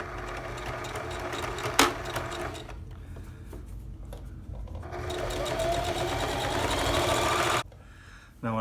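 A sewing machine top stitches a fabric face mask, its steady mechanical whir running continuously with a brief click partway through, then stopping near the end.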